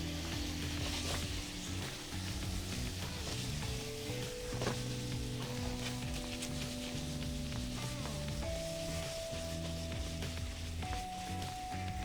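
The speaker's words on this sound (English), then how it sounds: "And get this to gently cook in my pasta sauce." Pasta sauce simmers gently in a pan, a soft steady sizzle and bubbling with faint tonal hums and occasional light clinks, continuous and close with no talking.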